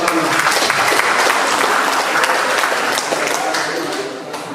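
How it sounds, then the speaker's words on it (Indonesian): Sustained applause from the floor of a regional council plenary session, dense steady clapping filling the room at close range before tapering slightly toward the end. "Mari kita tepuk tangan sama-sama."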